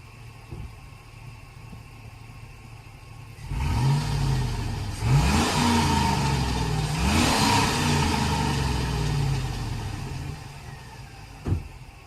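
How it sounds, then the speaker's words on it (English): An old, slightly smoky salvage yard car engine, running for the first time in seven years, idles at night and then revs twice in quick swells before settling back, close and fairly loud. "Let's give it some revs."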